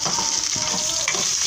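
Onions fry in a hot pan during cooking of chicken liver with noodles, a close, steady crackling sizzle with light stirring noises throughout.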